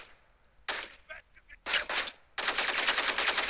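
Gunfire in the mobile video game Gangstar Vegas, loud rapid machine-gun bursts in three separate volleys, the last one long and sustained, with a voice speaking quietly between the first bursts.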